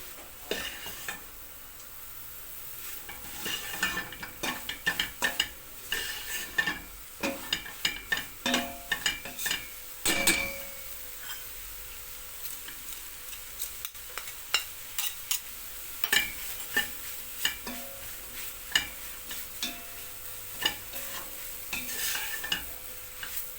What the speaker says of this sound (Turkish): Mantarlarını aldım içerisine. Biraz da mantarları kavuracağım.